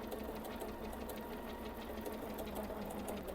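A Bernina 790 Pro sewing machine runs at a steady pace, giving a soft, even mechanical whir with a fast, regular stitching patter close by, quiet and unbroken throughout.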